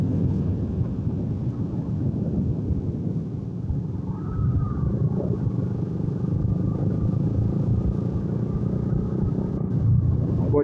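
Motorbike engine revving on a village road, a low steady rumble under wind and road noise, with a brief rising rev in the middle.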